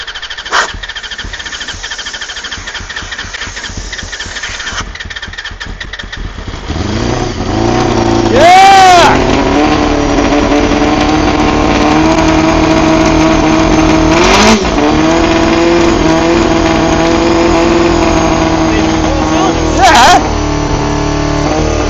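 A Honda CBR250RR MC22 motorcycle engine under restoration cranks, catches and then runs at a loud, steady high idle close by, with several sharp blips of revving and brief bursts cutting through the drone.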